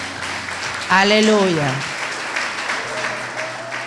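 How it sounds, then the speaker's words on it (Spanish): A church congregation claps steadily throughout, a loud continuous burst of applause, while a voice rises over it with an exultant shout and the clapping carries on beneath. "Gloria, aplauda que Él vive,"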